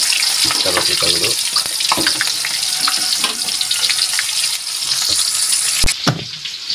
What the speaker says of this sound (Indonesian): Ini bawang merah kita goreng